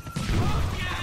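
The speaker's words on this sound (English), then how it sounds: "Evet, patladı." A bomb blows up on a building rooftop in GTA The Ballad of Gay Tony, one brief, heavy smashing boom that rumbles for about a second.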